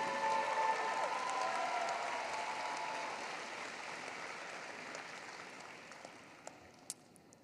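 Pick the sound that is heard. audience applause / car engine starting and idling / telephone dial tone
audience applause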